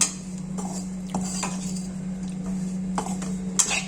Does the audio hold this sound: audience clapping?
no